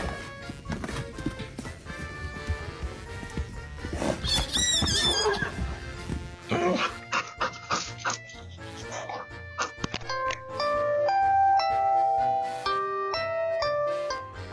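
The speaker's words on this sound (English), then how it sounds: "This mini horse is an example of small but mighty." A mini horse lets out a loud, shrill whinny near the start, followed by a doorbell chime ringing repeatedly and people talking.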